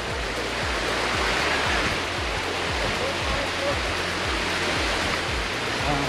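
Waterfall at Lonar Lake, the salt-water crater lake in Maharashtra, near a small bridge: a steady, dense roar of falling water fills the scene loudly and continuously, with a faint voice underneath.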